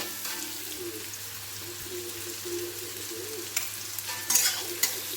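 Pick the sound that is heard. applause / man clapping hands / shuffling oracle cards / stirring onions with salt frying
stirring onions with salt frying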